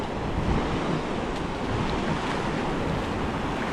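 Wading through shallow sea water at low tide, a steady broadband wash of water and surf filling the whole stretch, with no talk.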